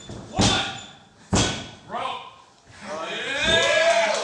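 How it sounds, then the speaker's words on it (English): A wrestler is slammed onto the ring mat by a big suplex at a wrestling show, giving heavy thuds and slams with a loud commentator talking and a crowd reacting. "Oh, Big, thunderous. powerful suplex."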